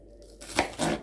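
Two quick knife chops cut through an onion on a board, the first sharp and the second a longer scraping slice, with no talking.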